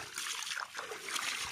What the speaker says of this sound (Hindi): ये पानी दो उसमें, धीरे धीरे धुलाई करो।